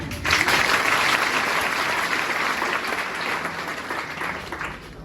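Sustained audience applause in a hall during a talk to selected students, a steady wash of many hands clapping throughout at moderate loudness, with no voices standing out.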